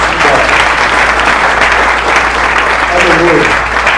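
Congregation in a church clapping together during a Sunday service, dense, loud and sustained applause filling the room throughout.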